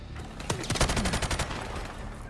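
A G36C rifle hip-fired in Call of Duty lets off a quick string of about a dozen loud, sharp shots in roughly one second, then a short fading tail.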